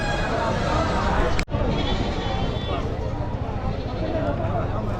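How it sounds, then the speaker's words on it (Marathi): Osmanabadi goats bleating amid a busy outdoor goat and sheep market in Chakan, Maharashtra, with loud crowd chatter and talking throughout and several animal calls rising out of the babble. "इकडं पाहू शकाल या उस्मानाबादी शेळ्या आहेत बघा"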